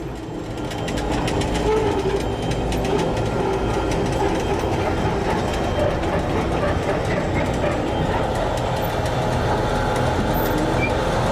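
A long freight train of flat rail cars loaded with tracked Army tanks rolls past nearby, its loud steady rumble carrying rhythmic wheel clatter throughout.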